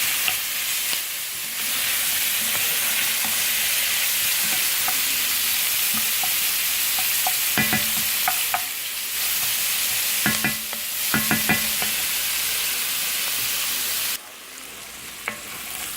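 Bell pepper and onions sauté for gumbo in a hot pan, sizzling steadily throughout, with occasional sharp clanks and scrapes of a utensil stirring the vegetables against the pan.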